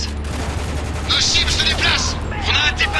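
Gunfire in the shooter game Spec Ops: The Line, dense rapid bursts of shots in a loud continuous fusillade, with voices shouting over the fighting.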